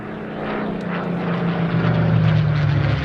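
A propeller-driven airplane with an elliptical wing flies past at the La Ferté-Alais air show in 2017, its engine a loud, steady droning roar that swells slightly as it nears, with no talk over it.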